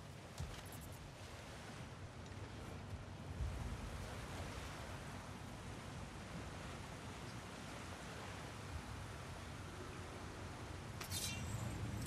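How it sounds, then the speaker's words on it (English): Continuous rushing water in the video game God of War Ragnarök, a steady broad hiss like a strong current with no pauses, and occasional brief clicks on top. "Sounds like you got the water moving along, brother."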